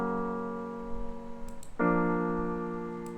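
With EQ and reverb, the piano part plays a held chord that shifts into a second sustained chord, lingering smoothly, solo and moderately loud.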